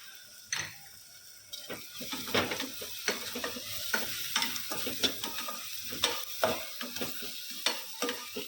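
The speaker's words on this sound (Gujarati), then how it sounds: "હવે જે આપણે આ કસ્તુરી મેથી છે એ આપણે નાખીશું." Spinach curry cooking in a pan with kasuri methi (dried fenugreek) being added, a steady oil sizzle under repeated scraping and stirring clatter of a spoon against the pan, close and continuous.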